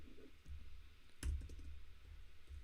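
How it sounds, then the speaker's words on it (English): Typing on a computer keyboard during a live coding session, faint, scattered key clicks with one sharper tap partway through, with no speech. "Live typing is always fun."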